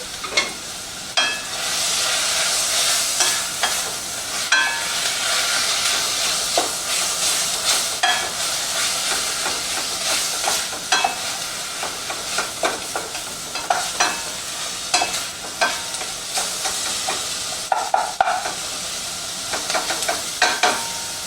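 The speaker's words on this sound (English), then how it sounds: "We're going to cook those vegetables down." Chopped bell peppers and other vegetables for a vegan jambalaya cook down in a hot pan, giving a steady loud sizzle and hiss with frequent scraping stir strokes throughout, and no voices.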